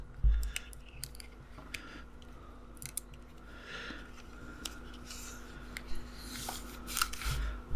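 Adhesive backing being peeled off a reversing camera mount during a budget van build, heard as a run of close, dry crackling and tearing bursts with brief pauses between them.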